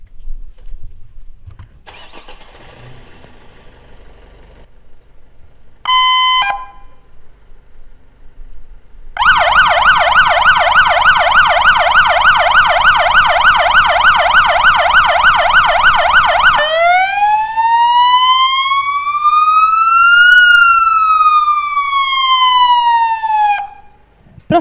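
Siren test on a Renault Trafic volunteer fire brigade vehicle: short horn blips, then a loud steady warbling tone for several seconds, followed by a rising and falling wail, all close and dominant with no talk.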